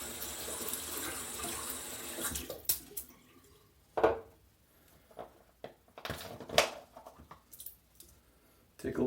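Water runs from a tap at the start as a shaving brush is wetted, a steady hiss that then stops. Scattered clicks, splashes and handling noises follow, and a voice is heard in between.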